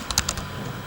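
Quick burst of computer keyboard typing, a handful of close, crisp key clicks in under a second, heard alone.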